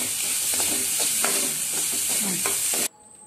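Grated coconut and shallots frying in oil, a dense crackling sizzle with repeated stirring scrapes of a spatula, close and steady before cutting off abruptly near the end.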